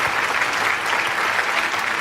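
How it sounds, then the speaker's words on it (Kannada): Audience applause at the grand finale of a TV dance show, a steady, dense clapping from a large crowd that fills the whole stretch without a break. "ಜೋರಾನ ಚಪ್ಪಾಳೆ ಕೊರಡು"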